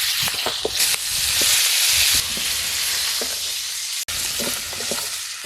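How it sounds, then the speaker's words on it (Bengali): Fish heads are broken apart and fried in mustard oil in a pan: a loud, continuous close sizzle with scraping, knocking stirring strokes and spatter, briefly dropping out near the end. "মাছের মাথাটা একটু ভেঙে ভেঙে আর ভেজে নেব।"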